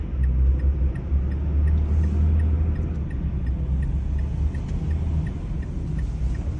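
A car travels along a two-lane road on the drive home, its steady low engine and tyre rumble continuous and close throughout, with no one talking.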